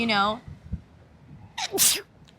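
A single sharp sneeze bursts out close by during a podcast conversation, preceded by a quick inhale, after a brief bit of talking.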